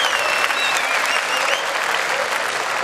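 Steady, dense applause and cheering from a large crowd at the CeBIT Counter-Strike esports grand final, loud and continuous throughout.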